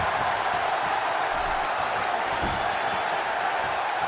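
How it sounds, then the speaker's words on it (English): A wrestling show crowd roars continuously, a dense steady wash of cheering and noise from a large audience with no breaks. "by the sound of this crowd, I think they're getting what they wanted."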